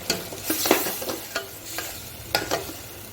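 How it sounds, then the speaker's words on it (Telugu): Mutton fries in a pan with chili powder and is stirred repeatedly, giving soft sizzling under a series of scraping stirs at an irregular rhythm, close and moderately quiet. "పచ్చివాసన పోయేదాకా కారాన్ని కూడా మగ్గపెట్టుకోవాలి"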